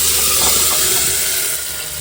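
Liquid pours steadily into a cooking pan holding small onions in a home kitchen, a loud, close, continuous hissing splash that eases slightly near the end.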